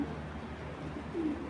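A female racing pigeon from a BRPO club loft gives a faint, low coo near the end, over a steady background hum.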